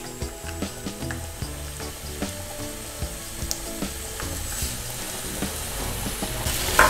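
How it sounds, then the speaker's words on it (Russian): Diced apples fry in a pan with butter, sugar and vanilla sugar, sizzling steadily while rhythmic scraping stir strokes repeat close up. "В сковороду отправляю яблоки."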